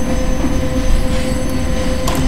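A train in the Roblox game Mad City rumbles continuously with a steady mechanical drone and rail noise, loud and close, with a brief high squeal near the end.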